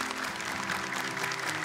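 A studio audience at the Hafiz Indonesia 2025 show applauds Ustadz Muhammad Hadian. The dense, even clapping continues throughout, loud and close, with no voices on top.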